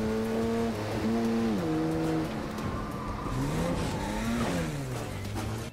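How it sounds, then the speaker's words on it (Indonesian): A car engine revs hard during a drama car chase under gunfire in Alice in Borderland. It is loud and continuous, with its pitch climbing and falling through gear changes and sharp turns, and no talking over it. "An terlihat sangat pro menyetir mobil di tengah gempuran peluru dari King Scope"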